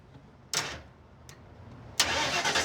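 Brief whirs of the starter crank a Ford Ranchero's engine on a first try, then a short bump, and then the engine catches with a louder burst and begins running close by.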